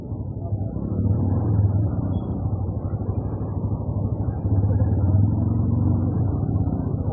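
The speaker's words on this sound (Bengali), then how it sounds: "নম্বর গেটে জ্যাম দেখো" Cars and motorcycles stuck in a traffic jam at railway gate number 1 make a steady, close engine rumble and idling drone that stays loud and unbroken throughout.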